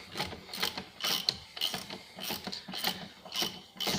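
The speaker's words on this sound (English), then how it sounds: "now we can tighten it with 15mm wrench" A 15mm wrench tightening a rear shock absorber bolt on a Ford Fusion, giving repeated rhythmic ratcheting and metallic scraping strokes, close and moderately loud, with no talking.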